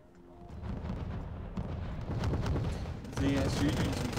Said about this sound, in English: DSU doing some close range fire support